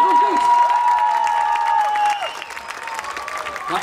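Crowd applause and cheering greet the opening of a lantern parade during a holiday week, a loud, dense wash of clapping under a tonal background, fading somewhat after two seconds.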